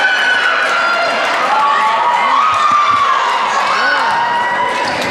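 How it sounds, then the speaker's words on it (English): A vocal Truckee crowd cheers and shouts at a high school volleyball match in a gym, a continuous loud wash of voices and whoops with a commentator talking over it. "The Truckee crowd is definitely vocal so far in the match, trying to take over the Viking home court"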